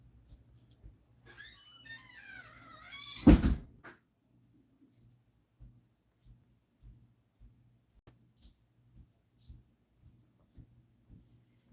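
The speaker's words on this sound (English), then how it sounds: "I am going to go close my front door" A front door swings shut with a single loud thud, preceded by brief shuffling, while a distant weed eater whines from next door and faint regular ticks follow in the quiet.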